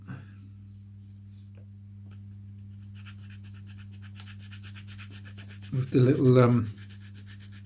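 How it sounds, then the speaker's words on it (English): Fine scratchy rubbing as grooves are sanded out of a balsa wood part from a die-cut Guillow's Bird Dog model airplane kit, over a steady low electrical hum, with a short burst of nearby speech near the end. "Just sanding the grooves out."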